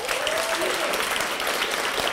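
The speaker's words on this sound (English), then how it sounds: "So give them a round of applause" Audience applause at a live premiere screening event, a steady dense wash of many hands clapping at even loudness for the whole stretch, with no break or rise.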